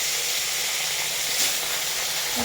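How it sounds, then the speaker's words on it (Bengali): Pieces of bhola fish drop into hot oil and sizzle, a steady close hissing spray throughout this brief moment, with no talk. "বাকি যেগুলো আছে দেখুন তেলের মধ্যে ছেড়ে দিচ্ছি"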